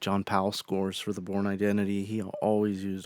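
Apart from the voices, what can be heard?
No everyday noises stand out.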